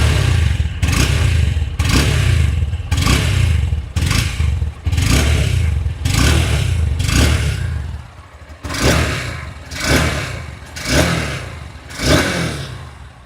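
A 2026 Honda Hornet 2.0 motorcycle engine revs loudly and close up in a steady series of about a dozen sharp throttle blips, dropping briefly before resuming with rising pulls.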